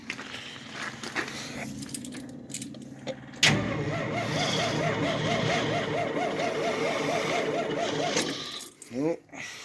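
A Dodge wagon engine fires on starter fluid, catching with a sudden loud, steady, pulsing run for several seconds before it sputters and dies.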